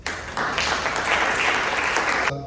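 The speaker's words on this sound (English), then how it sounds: "Give him a round of applause." An audience at a healthcare leadership workshop bursts into dense applause after a short pause, with many hands clapping together at a steady level until it cuts off.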